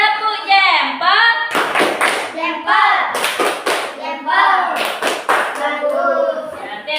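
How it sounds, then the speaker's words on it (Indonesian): Schoolchildren in a classroom do a 'tepuk jempol' thumb-clap routine: loud bursts of group clapping alternate with chanted voices in a quick rhythm. "Kita beri tepuk jempol untuk Akina. Tepuk jempol."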